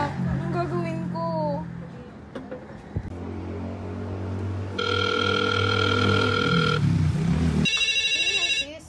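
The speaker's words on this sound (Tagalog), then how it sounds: "Si Erika sis tumatawag. Sige, sagutin mo muna yun" An incoming call sets a phone ringing with a repeated electronic ringtone, loud and near. Short bursts give way to sustained tonal rings, and voices speak faintly beneath.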